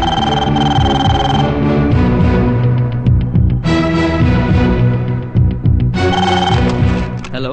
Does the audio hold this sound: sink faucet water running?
no